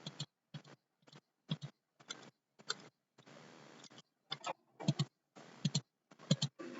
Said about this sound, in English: It has a cool typewriter sound effect.